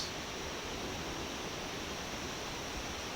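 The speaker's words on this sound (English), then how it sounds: "These type of" A mountain waterfall on the Valley of Flowers trek, a dense, steady roaring rush of falling water that is loud and unchanging throughout.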